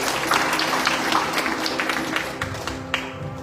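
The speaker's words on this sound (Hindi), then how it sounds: "ताली बजाओ परमेश्वर के लिए" A church congregation claps together in a dense, steady patter of many hands, close and lively, with a faint musical tone beneath.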